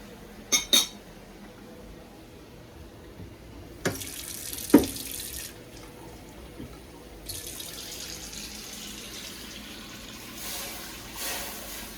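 Tap water running into a cooking pot while yellow rice is being made, with a few sharp metallic clinks first, then a steady close hiss of flowing water, easing and returning more softly near the end.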